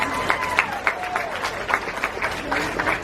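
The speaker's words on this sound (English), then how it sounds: "Let's give Josh a round of applause." An audience at a Gatorland alligator wrestling show in Orlando gives a short burst of applause, scattered claps rising and falling with a murmur of voices and a faint tone underneath.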